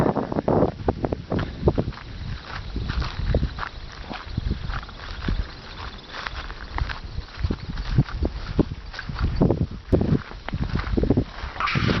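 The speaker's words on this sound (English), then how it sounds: "It's always windy here because of the wind coming across the lake" Gusty wind off a Michigan lake buffets the microphone in uneven bursts, a rough, rumbling roar with rustling and thumps throughout.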